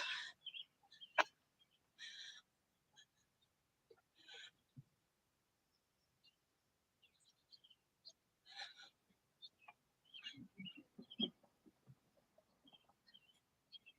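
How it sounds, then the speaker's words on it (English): Birds chirp and sing outdoors along a morning hiking trail, scattered short calls, some near and some farther off, with low rustling and footstep-like thuds toward the end. "They're just a singing away."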